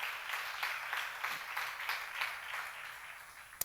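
A church seminar audience at a Nehemiah lecture claps together in a sustained burst, with many hands sounding at a moderate distance and faint rhythmic pulses. A single sharp knock rings out just before the end.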